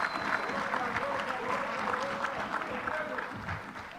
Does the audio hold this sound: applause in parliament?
yes